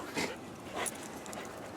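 A female puppy pants quietly with a couple of soft whimpers, faint and close in a calm room.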